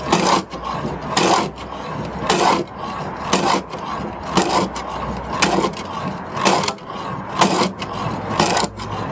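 A hand saw cuts through material in slow, even back-and-forth strokes, about nine rasping pulls, each a bright scraping burst, close and loud with no talk.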